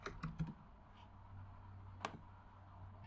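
Someone types on a computer keyboard while entering code: a quick cluster of quiet keystrokes, then a pause and one more isolated key click, close and faint in a quiet room.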